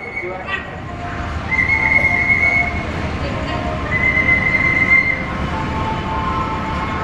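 Jayabaya passenger train on the Jakarta Pasar Senen–Malang service passes along track 7 at Jatinegara station, Jakarta, with a steady rolling rumble and two drawn-out high wheel squeals, while a voice speaks over the station noise.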